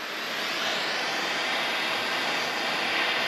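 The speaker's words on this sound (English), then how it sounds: "You're gonna light up your map gas" A MAP gas torch flame roars steadily and loudly as it heats the metal shaft of a screwdriver, a continuous broadband rushing with no breaks and no voices.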